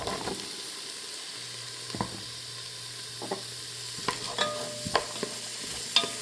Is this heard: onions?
yes